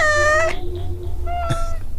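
A cat gives two clear, close meows, a long drawn-out one followed after a short pause by a second, shorter one, over a steady low background hum.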